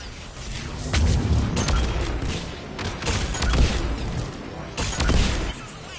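Missiles launching and exploding in Mass Effect 3, a rumbling mix of deep booms and crackling blasts that swells and fades in several waves, with no talk.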